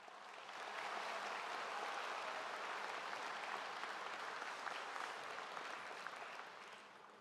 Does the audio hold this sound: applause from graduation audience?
yes